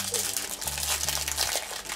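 A small plastic packet from a colour-changing LOL mermaid toy set is opened with close, continuous crinkling and rustling, a low hum running underneath.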